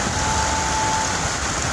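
Steady rain pouring outside a house terrace, with rainwater leaking into the ceiling; a dense, continuous hiss close by with no voices.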